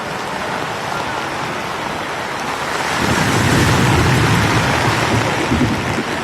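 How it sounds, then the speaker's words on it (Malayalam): Heavy rain pouring down in Thiruvananthapuram outside a court during a red alert, a dense continuous roar of downpour that swells louder halfway through, with no voices heard. "മഴയാണ് തകർത്ത് പെയ്യുകയും ചെയ്യുന്നു."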